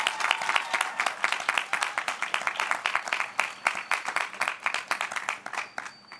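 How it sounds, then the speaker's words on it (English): Crowd at a Harvard Law School class day ceremony clapping for an honoree, rapid, dense applause with distinct individual claps pulsing throughout, fairly distant and sustained. "Yeah, clap it up."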